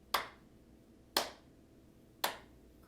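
Three crisp, evenly spaced hand claps about a second apart, close and isolated against a quiet room, keeping a steady beat in a children's music lesson.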